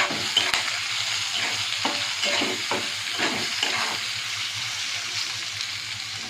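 A large chopped onion goes into hot oil with green chillies, producing a loud, close, continuous sizzle with a burst of crackling spatter early on that settles into an even hiss.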